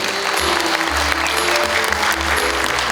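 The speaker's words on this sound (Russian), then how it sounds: "Ваши аплодисменты." Concert audience at an anniversary show of a Cossack song ensemble applauds with dense, sustained clapping that fills the hall evenly throughout, with a low hum beneath.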